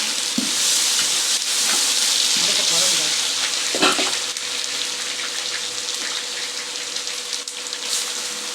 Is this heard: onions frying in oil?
yes